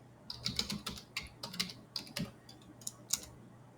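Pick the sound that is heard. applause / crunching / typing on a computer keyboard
typing on a computer keyboard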